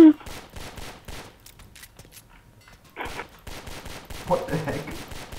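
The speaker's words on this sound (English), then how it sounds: "Stop shooting at people." Gunfire in Garry's Mod, rapid repeated shots in quick irregular bursts throughout, sharp and loud, with a couple of heavier blasts partway through.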